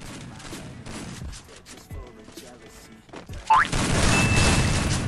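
Gunfire rings out in a video game, scattered sharp shots and crashes across a busy mix that ends in a loud sustained burst of noise and a rising whine.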